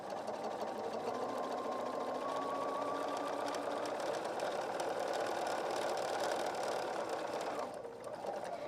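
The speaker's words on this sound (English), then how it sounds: "So we're gonna bring our presser foot down and stitch." A sewing machine stitches pillow fabric in one continuous, steady motorized whir with a fast mechanical rattle, close and even, slowing briefly near the end.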